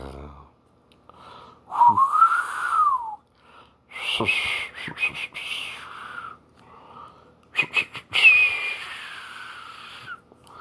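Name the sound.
whistling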